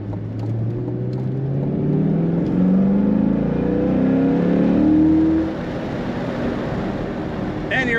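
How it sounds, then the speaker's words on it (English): A 2022 Chevrolet Corvette Convertible 3LT Z51 accelerates on a highway, its engine and exhaust rising in a steady sustained roar, loud and close, then easing off near the end. "Plenty of power. Awesome exhaust note."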